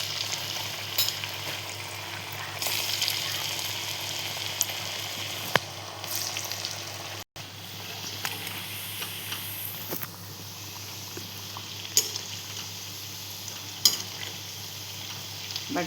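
Potato bites frying in hot oil, a steady bright sizzle with scattered pops and crackles, close and even throughout, briefly cutting out once, with no talking.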